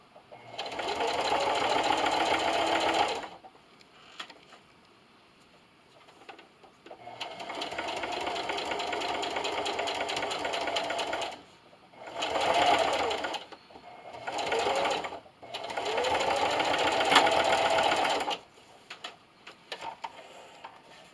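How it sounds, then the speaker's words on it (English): Sewing machine stitching a seam across a cornhole bag, about half an inch from the side, heard as close, rapid mechanical whirring in four bursts separated by quiet pauses. "Now I'm just going to sew all the way across, about a 1/2 inch away from my side."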